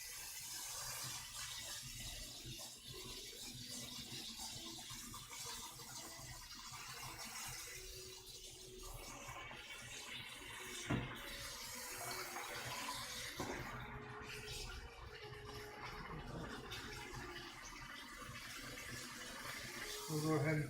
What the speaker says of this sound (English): I'm going to toss this rice into this colander and rinse it off. With some cold water